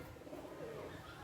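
Pigeons coo softly at an outdoor water resort. Low, faint cooing blends into steady ambient noise throughout the short stretch.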